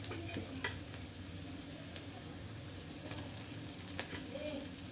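Tomatoes tossed into a pan of frying poha with peanuts, giving a steady close sizzle broken by a few sharp stirring clinks, with faint talk in the background.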